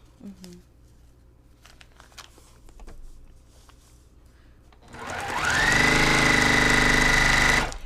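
A sewing machine runs a final stitch along a quarter-inch seam on a quilt block, a loud fast steady whir with a rising hum that starts after soft handling noises and a voice, then stops abruptly.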